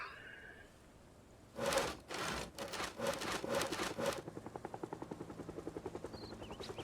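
Rapid, chopping rotor blades of a helicopter in the video game Project Zomboid swell in loudly, then settle into a steady pulsing thump that continues to the end.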